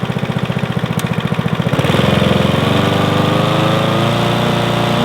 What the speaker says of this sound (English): Under the lawnmower, the blades are spinning.